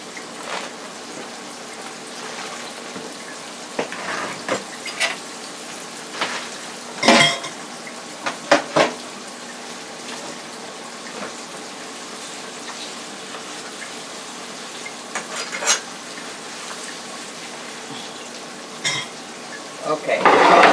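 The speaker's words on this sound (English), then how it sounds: "now that we have the pork chops frying" Pork chops fry in a pan with a steady, dense sizzle throughout. Occasional clinks and scrapes of utensils and cookware come through nearby.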